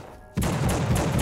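Gunfire erupts in The Suffering video game, a sudden loud onset of rapid, rattling shots continuing in a dense burst after a short near-silent moment.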